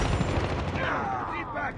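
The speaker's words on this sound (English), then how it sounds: "Boom! Headshot!" Gunfire from a Call of Duty Domination match lands a headshot, a loud burst of sharp shots right up close that rings out over a rush of game noise.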